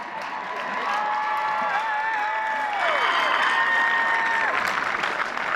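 Commencement audience at the University of New Hampshire's 2013 ceremony clapping and cheering steadily, a broad continuous wash of applause with whoops and whistles rising over it throughout.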